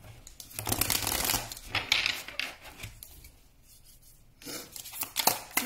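Tarot cards shuffling and slipping onto a table, papery riffles and rubbing swishes coming in bursts with a quieter stretch in the middle, close and fairly soft.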